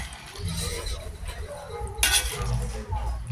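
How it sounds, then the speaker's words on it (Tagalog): Utensils stirring and tossing vegetables through pancit bihon and canton noodles in a pan, with soft scraping, clinks against the cookware and a brief sizzle, while a voice talks at moments. "imimix-mix na naman para mabilis lumambot, maluto ang gulay"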